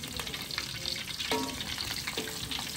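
Sweet potato pieces deep frying in hot oil, a steady close crackling sizzle throughout with a few brief tonal scrapes, no voices.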